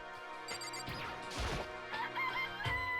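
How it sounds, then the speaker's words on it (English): A chicken clucks in the Danganronpa: Trigger Happy Havoc game, with squawking crow-like calls and a crashing thwack among game sound effects, moderately loud, no speech. "This place even has chickens, huh?"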